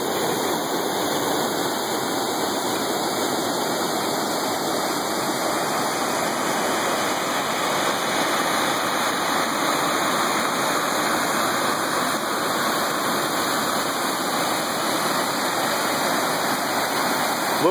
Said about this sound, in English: We finally found a way down to the river.